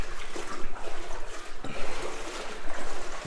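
Water trickling and sloshing around someone wading through cold standing water inside an old bunker, a steady splashy wash close by with no voices.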